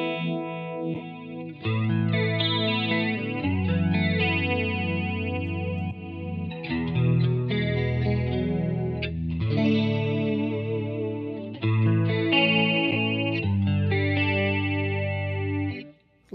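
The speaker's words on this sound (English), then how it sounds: "a lot of chorusy sounds." An electric guitar runs through a Strymon Mobius pedal set to chorus and plays sustained, shimmering chords with a swirling, detuned wobble. The notes ring out loud and alone, with brief breaks between phrases.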